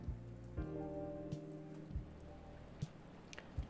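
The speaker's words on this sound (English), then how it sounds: "A rainy day." Steady rain falls at night, a soft continuous wash with occasional sharper drops hitting a surface, heard alone and fairly quiet.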